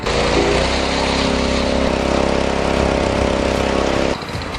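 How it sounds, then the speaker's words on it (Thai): A Marton 100 cm concrete power trowel's petrol engine running loud and close with a steady, buzzing drone, then cutting off abruptly near the end. "ทำการสตาร์ทครับผม จากนั้นดันโชคกลับครับผม จากนั้นทำการเร่งเครื่องพร้อมใช้งานได้เลยครับ"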